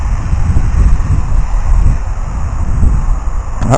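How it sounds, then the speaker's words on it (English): Gusty wind buffets the microphone of a Syma X3 Pioneer drone carrying a DragonTouch action camera outdoors, a loud rumbling, fluttering roar that rises and falls throughout. "that was a gust of wind caught it"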